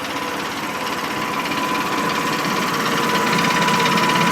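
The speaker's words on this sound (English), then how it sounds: "let the engine catch up nicely" A small engine runs steadily with a fast, even mechanical chatter and a faint high whine, growing slightly louder throughout.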